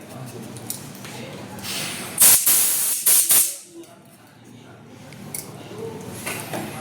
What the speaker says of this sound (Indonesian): kita semprot dengan angin tekanan.